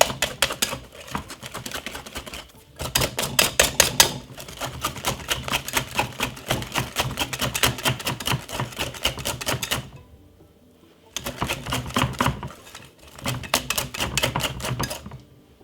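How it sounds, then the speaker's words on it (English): A hand whisk beats cinnamon sponge batter in a bowl, giving fast, even rattling clicks in steady bursts with a couple of short pauses between runs. "you can get like a hand whisk and just simple give it a whisk like this"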